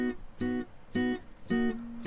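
A lone guitar track from an FL Studio mix, panned right, plucks four evenly spaced, clean-toned chords or notes, each ringing briefly before the next, at a moderate level with no other instruments.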